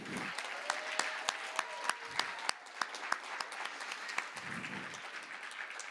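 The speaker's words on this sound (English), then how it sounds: "one last round of applause for our student leaders" Audience applause after student leaders are honored at a student leadership awards ceremony, a room of clapping with sharp individual claps standing out, tapering toward the end.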